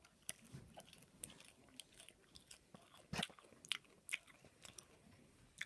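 A rocket salad leaf is chewed close to the mic, with soft, irregular crunchy bites and moist chewing in otherwise quiet surroundings.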